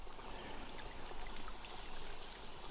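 Water still trickles and flows through an old abandoned New England stone railroad tunnel, a soft steady wash heard faintly and continuously with no voices.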